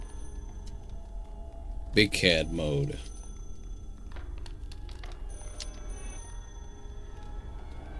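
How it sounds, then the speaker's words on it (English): Telephone ringing inside a video game, a short bright ringing burst that sounds once, close and fairly loud, with someone talking over the game audio around it. "Oh, there's a phone."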